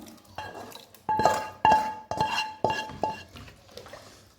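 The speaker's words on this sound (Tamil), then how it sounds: "இப்போது நம்ம இதை ரைஸ் குக்கரில் ஊற்றிடலாம்" Seasoning for ghee rice pulao is tipped from a pan into a rice cooker, with five sharp metallic clinks of a utensil against the pot in a steady rhythm over a wet, sloshing pour, close and fairly loud.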